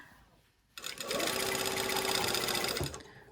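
A sewing machine runs a basting stitch along a zipper seam, starting after a quiet pause and holding one steady, fast whirring stitch for about two seconds before stopping.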